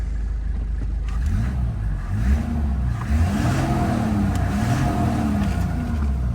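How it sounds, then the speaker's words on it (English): A diesel engine in a 105 Series Toyota Land Cruiser in Kenya cranks and catches, then settles into a loud, steady idle with rising and falling tones as it revs lightly, close to the listener. "Let me just start this car for you. Let's just see how this starts."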